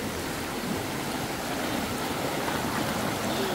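The Jalala river in El Salvador, swollen after its first flood, rushes past in a continuous loud roar of churning water, close and unbroken.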